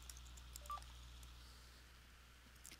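A mobile phone gives a single short, faint dialing tone, heard once against a low steady hum, with a few soft clicks near the end.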